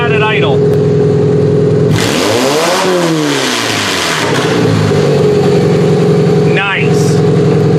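A car engine idles steadily, then revs up hard and falls back in a sweeping rise and drop before settling, with a shorter rev near the end; loud and close, after transmission and oil cooler work.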